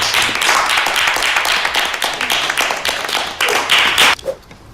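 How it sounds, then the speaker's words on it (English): A small group clapping at the end of a talk-show conversation, close, dense hand claps that run for several seconds, then taper off into quiet. "So give yourself a round of applause."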